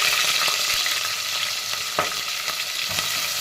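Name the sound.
green chillies frying in oil with whole spices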